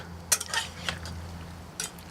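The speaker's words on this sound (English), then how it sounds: "all I have to do now is give all this a nice stir" Beef stew with a little jam is stirred in a thermal cooker pot. A spoon clinks and scrapes against the pot in a few short, quiet strokes over a low background hum.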